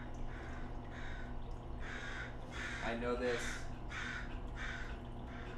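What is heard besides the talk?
crows cawing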